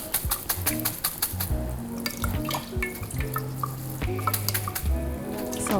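Cooked spring roll noodles draining in a kitchen, with close, irregular drips and trickles of water pattering steadily over several seconds, alone without talk.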